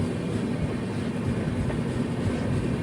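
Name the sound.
train arriving at Thrissur railway station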